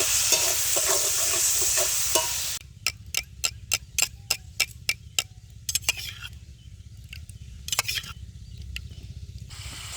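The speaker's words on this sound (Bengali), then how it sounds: "দিয়ে দেব লঙ্কা গুঁড়ো, সামান্য একটু জল দিয়ে ভালো করে কষিয়ে নেব" Spices frying in a pan with chili powder and a splash of water, starting with a dense, loud sizzle that cuts off after a couple of seconds, followed by sparse, evenly spaced clicks and taps of a spatula against the pan.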